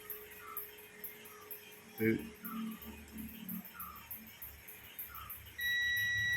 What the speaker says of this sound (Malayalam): ഇത് രണ്ടിലും ബീപ്പ് സൗണ്ട് കേൾക്കുന്നുണ്ട്